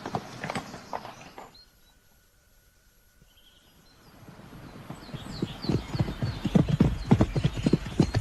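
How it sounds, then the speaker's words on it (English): Horse hooves clip-clop in an old-time radio drama of Brother Cadfael, a few clear strikes fading to near silence before a rising, busier run of hoofbeats that grows close and loud. "Fetch me the quietest horse."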